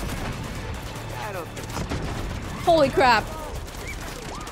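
Gunfire in Uncharted 2: Among Thieves, scattered shots and a couple of louder bursts amid combat noise, with a voice exclaiming over it.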